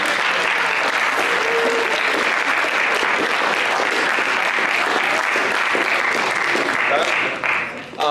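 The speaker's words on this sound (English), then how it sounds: "Let's clap it up for every student" Students at a leadership summit receive sustained, loud applause from an audience, dense steady clapping that fills the whole stretch and dips briefly near the end.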